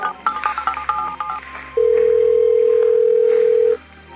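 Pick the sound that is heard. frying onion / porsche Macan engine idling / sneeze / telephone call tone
telephone call tone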